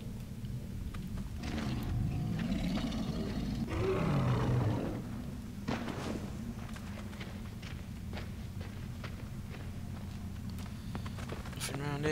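A tiger in the Far Cry Primal video game lets out a loud, rumbling roar in the first few seconds, then fades into a quieter game soundscape with scattered thuds and footsteps.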